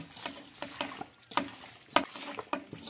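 Chicken tossed by hand with cashews, salt and oil for capsicum chicken: a run of soft, irregular squelching and slapping strokes, close and moderately loud, with no talking.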